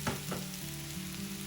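Boiled raw banana pieces go into a hot pan, giving a faint, brief sizzle of frying with a couple of soft stirring clatters.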